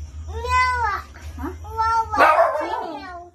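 A house cat meowing several times up close in a home, drawn-out cries with short pauses between, over a low hum.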